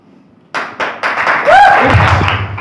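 Audience applause at a Hindi motivational speech, with a few scattered claps first and then dense clapping that builds and holds, loud and close, under a low background hum.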